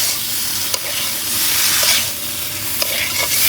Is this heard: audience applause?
no